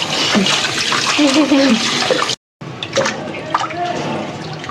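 Rohu fish pieces are rinsed and rubbed with turmeric and salt in water, making close splashing and sloshing that stops briefly midway before the water sounds resume.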